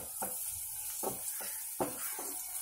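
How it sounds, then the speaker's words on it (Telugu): Raisins and cashews frying in ghee for a semolina kesari offering, a steady soft sizzle broken by about five distinct scraping stirs, close and quiet. "కిస్మిస్ కూడా బాగా ఇలాగా రౌండ్గా అయ్యే వరకు వేయించుకోవాలి"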